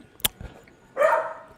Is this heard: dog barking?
yes